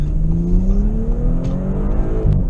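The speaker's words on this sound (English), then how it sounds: "Let's give this car some gas into the turn" A 2018 Audi S5 Convertible, a car of over 4,200 pounds, accelerates into a turn, its engine note climbing steadily in pitch as it revs, heard from inside the cabin as a loud, continuous drone with no talking.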